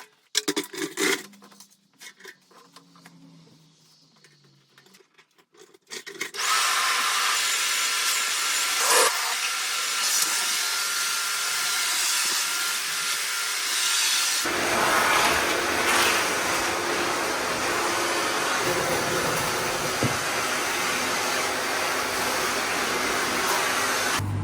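A workshop dust extractor, used while making chopping boards, starts after a few seconds of quiet handling noises and settles into a loud, steady broadband roar. Its tone deepens and fills out partway through, then runs on continuously with no talking.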